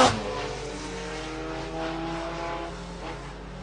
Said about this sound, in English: That's the 4 car going around down the Equus back straight